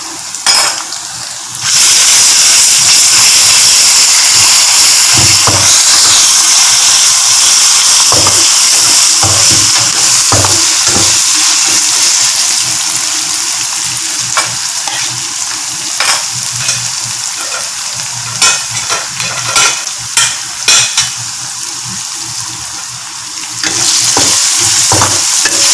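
Ginger garlic paste sizzles loudly in a hot pan while a spoon stirs it, with steady frying hiss broken by frequent scrapes and clinks of metal against the pan.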